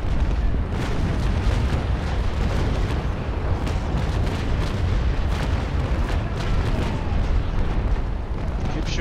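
Naval cannons fire again and again in a sailing-ship battle game, with dense, overlapping booms and crashes that run steadily through the whole stretch at a loud, constant level.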